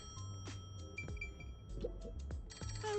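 Telephone ringing in the game Master Detective Archives: Rain Code, faint short electronic ring bursts repeating under music and low background sound.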